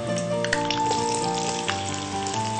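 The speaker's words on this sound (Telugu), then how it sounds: "3-4 స్పూన్స్ ఆయిల్ వేసేసుకుని ఉల్లిపాయ ముక్కలు వేసుకున్నామండి." Onion pieces frying in three to four spoons of oil, a steady close crackling sizzle with small pops throughout.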